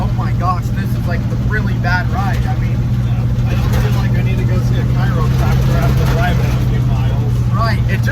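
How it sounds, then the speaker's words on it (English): Loose interior trim and an unbolted back seat rattle inside a moving International Scout, riding over a steady, loud engine and road drone while people talk throughout. "it rattles in here because we got some loose trim"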